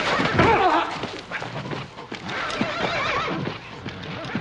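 A white horse whinnies and neighs in a Western frontier setting, with hooves clip-clopping and a loud, close neigh near the start, while voices talk around it.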